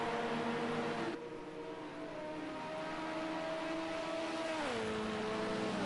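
Le Mans race cars sweep past with a BMW in the lead, a loud sustained engine drone that thins abruptly, then its pitch sags downward as the cars pass and pull away.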